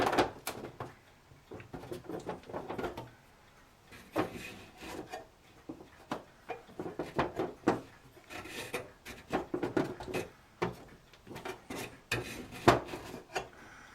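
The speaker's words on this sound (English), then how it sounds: "This just does not want to snap down into place." Plastic and wooden model ship parts being pressed, scraped and rubbed as a piece is forced to snap into place, giving faint, irregular scratchy scrapes and small knocks close up.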